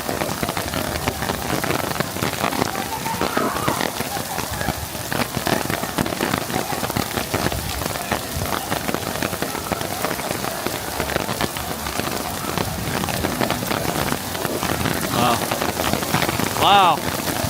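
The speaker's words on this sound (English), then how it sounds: "Well, the rain anyway." Heavy rain pours steadily during a sudden Florida downpour at Magic Kingdom, a dense continuous hiss of drops on surfaces, loud and close throughout, with a brief faint tone near the end.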